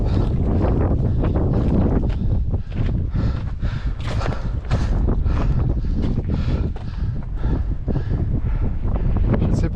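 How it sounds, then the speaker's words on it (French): Strong wind roars through a mountain chimney gully on the Dent d'Oche, buffeting the microphone in a constant, loud, gusty rush with no pauses. "Mais le vent est de plus en plus présent."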